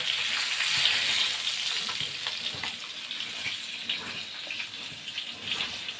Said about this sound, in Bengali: আবারও পরে দুটো মাছ আমি ভেজে নিলাম